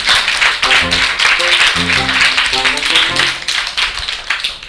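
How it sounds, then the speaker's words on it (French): Kindergarten children clapping together for a classmate: loud, dense applause from many small hands, continuous throughout, with young voices calling out over it. "Alors on applaudit Samuel ensemble."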